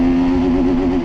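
A TVS Apache RTR 310 motorcycle accelerating hard in sports mode, its engine note rising steadily in pitch as it revs, loud and close, with no talk over it.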